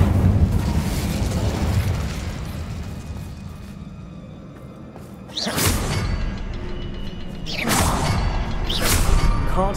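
Incendio fire spell cast in Hogwarts Legacy: two loud whooshing fiery bursts over steady game ambience, the first erupting about halfway through and a second following a couple of seconds later.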